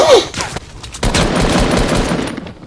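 Pistol gunfire in a video game cracks out as a few sharp, loud shots at close range, with reverberant decay between them and no talking.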